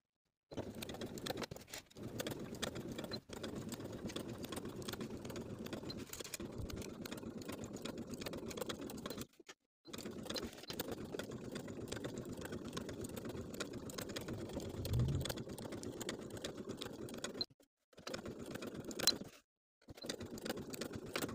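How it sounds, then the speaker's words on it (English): A sewing machine stay stitching a shirt neckline with a 1/4 inch seam allowance gives a faint, steady whir in long runs, broken by a few brief stops. "We're going to sew with a 1/4 inch seam allowance along the entire raw edges of the neckline."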